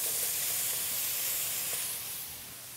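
Broccoli dropped into a very hot wok with stir-fried pork over an intense flame gives off a steady, loud steaming hiss and sizzle that eases off slightly toward the end, with no talking.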